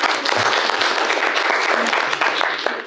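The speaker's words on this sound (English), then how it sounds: "Please clap for yourself as we start this session." Close, loud applause from an audience at a school leadership event, dense clapping sustained at an even level throughout.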